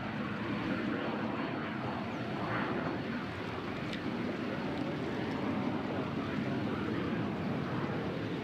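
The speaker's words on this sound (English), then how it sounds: "I'm hearing an engine fire up, so one of our Amazons might be firing up." A cargo jet's engine spools up at an airport, a steady broad roar carrying from some distance with no talk over it.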